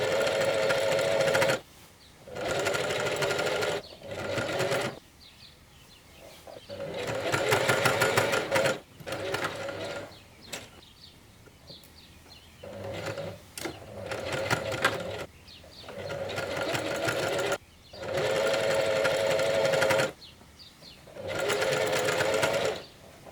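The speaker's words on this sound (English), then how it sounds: "Sew the diagonals of the pockets with a double stitch." A sewing machine double-stitches the pocket diagonals on climbing pants, running in loud, steady bursts of a few seconds each with short pauses between them.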